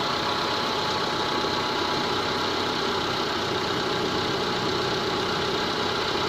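A Proton Waja MMC engine with a faulty TPS idles steadily and close by, a dense continuous mechanical hum with no talking and no obvious surges.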